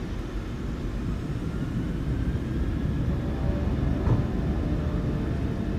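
PMDG 737 jet engines in MSFS2020 spool up for takeoff, producing a steady, loud broadband rumble that holds evenly throughout with a slight swell near the end.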